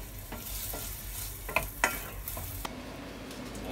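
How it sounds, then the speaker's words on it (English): Onions fry in butter in a pan, a soft, continuous sizzle with a few sharp utensil taps and scrapes over a short stretch. "I'm going to fry the onions now."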